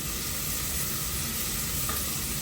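Onions sauté in ghee over a low flame, making a steady, close hiss of frying that runs evenly throughout with no talking.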